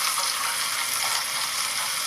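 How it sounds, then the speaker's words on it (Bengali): Green chili, ginger and garlic fry in a pan with a steady, close, dense hiss of oil that holds even and unbroken throughout, with no voices. "কাঁচা লঙ্কা, আদা, রসুনটা সবই রসুন বলা হয়ে গেল, আদা কাঁচা লঙ্কাটা খুব সুন্দরভাবে আমি ভেজে নিচ্ছি"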